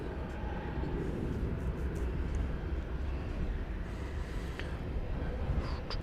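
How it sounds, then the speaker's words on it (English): An Airbus A321 airliner departing Dallas/Fort Worth for San Antonio, heard as a quiet, distant, continuous engine rumble that holds steady with no talking. "Headed out there, flight 546 to San Antonio, Texas, in Airbus A321."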